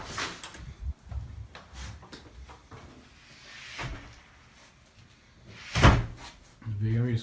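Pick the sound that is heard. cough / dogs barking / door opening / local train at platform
door opening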